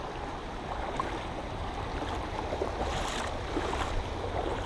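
Continuous broadband rush of a small creek flowing over rocks, steady and fairly close, with slight surges but no voices.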